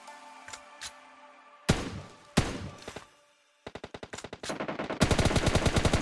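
Gunfire in PUBG: a few sharp single shots, then a pause, then rapid automatic bursts that build into a dense, loud stream of fire toward the end.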